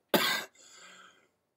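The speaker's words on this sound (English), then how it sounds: "I had a coughing fit, just had to cut that out" A single harsh cough burst followed by a softer, trailing throat-clearing rasp, close and fairly loud, with no talking.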